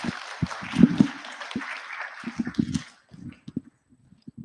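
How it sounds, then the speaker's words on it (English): An audience at a Sunday morning satsang at a spiritual center applauds after a speaker, a dense wash of clapping that fades out after about three seconds, with low murmuring sounds following. "Let's give her another round of applause."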